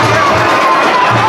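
A dense crowd packed in lines at the Parbhani Urs dargah produces loud, continuous babble of many overlapping voices and shouts, close and enveloping with no single voice standing out.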